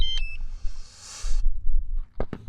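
A DJI Mavic Mini SE drone powering off gives a quick falling series of electronic beeps, followed by a soft hiss and a few small handling clicks close by.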